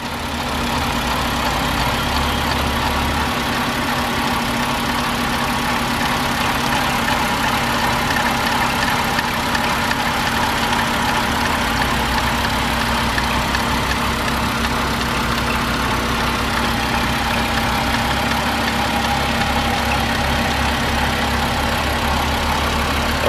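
A 2012 Volkswagen Jetta's 2.5 liter engine with 40,489 miles idles steadily at a salvage yard, a loud, continuous close-up hum with a faint rhythmic ticking and no talking.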